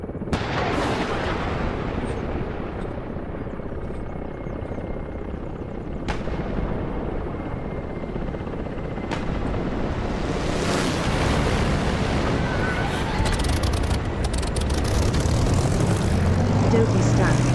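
Aircraft engine in the DCS flight simulator, a steady broadband drone running continuously at even loudness, with a voice talking over it partway through.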